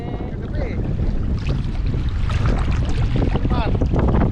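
Steady wind buffeting and rumbling against a microphone outdoors at Al Khor Beach, continuous throughout, with faint water and boat noise underneath.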